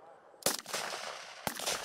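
Military rifle fire at a militia shooting competition: two sharp, loud shots about a second apart, each with a rolling echo, over faint background noise.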